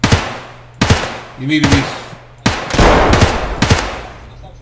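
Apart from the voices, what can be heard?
RPK machine gun firing in video game Escape from Tarkov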